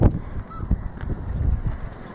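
Gulls call intermittently from the top of castle walls at Laugharne Castle, short honking cries against a faint outdoor background, with no one speaking.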